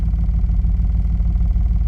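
The HEMI V8 of a 2007 Dodge Ram 1500 pickup idles steadily and close, a loud, even low rumble with no talk.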